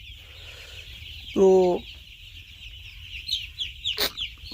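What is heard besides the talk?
chickens clucking in poultry farm shed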